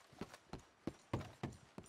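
Horse hooves clop in a steady walking rhythm within Red Dead Redemption 2, each hoof strike distinct and fairly quiet against a faint background.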